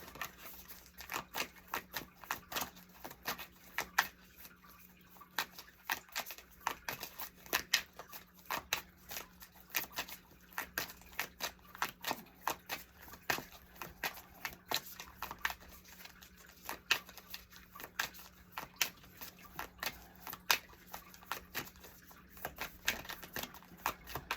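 A deck of tarot cards is shuffled continuously, a dense stream of quick papery flicks and riffles, close and quiet, with no voices.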